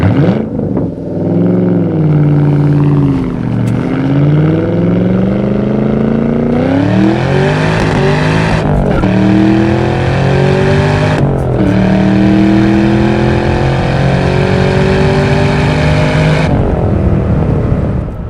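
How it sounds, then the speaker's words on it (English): A supercharged 2004 Ford Cobra with a 4.6 engine and Borla exhaust accelerates hard through several gears, its loud engine note climbing and dropping at each shift with supercharger whine layered over the exhaust roar, heard close and without talk. "That supercharger whine is fantastic."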